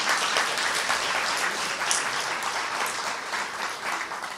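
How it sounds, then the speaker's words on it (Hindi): Sustained applause from an audience at a spiritual talk, a dense, even patter of many hands clapping at moderate volume throughout, with no speech over it. "तालियां तो बजाओ जरा"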